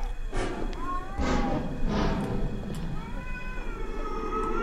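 Several short, rising and falling cat meows come from the horror video game Erie, spaced across a few seconds over a dark, rumbling ambient background.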